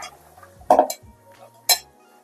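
A metal karai wok set on the stove with a few sharp clanks and clinks, two of them loud and close, over a quiet background, with no talking.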